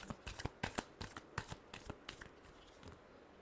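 Tarot cards are shuffled up close in quick, soft riffling bursts that come in an uneven patter and fade toward the end, with no voices.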